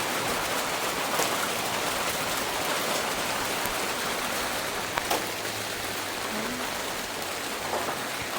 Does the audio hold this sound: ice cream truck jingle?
no